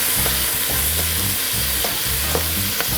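Garlic added to cabbage and andouille sausage frying in a pot, a loud continuous sizzle with rhythmic stirring strokes, no voices.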